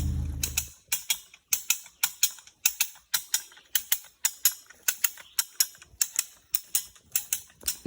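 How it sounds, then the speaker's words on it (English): Wyeth Scott come-along cable puller being ratcheted outdoors while hauling a cable anchored to a maple tree, a steady series of crisp metallic clicks about twice a second, close and alone without talk. "using a Wyeth Scott come along puller"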